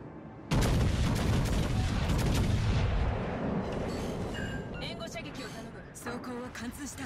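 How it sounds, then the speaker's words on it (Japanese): Heavy naval covering fire in World of Warships Legends: a sudden loud booming salvo opens and rumbles on for several seconds, then fades into scattered lighter shots and mechanical clatter. "全艦援護射撃を頼む。"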